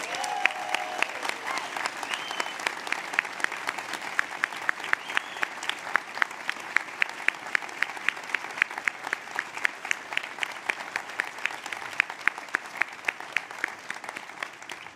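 Audience applause at a university presidential inauguration, a large crowd clapping steadily and densely for fifteen seconds, with brief musical tones at the start and individual claps cutting through the wash.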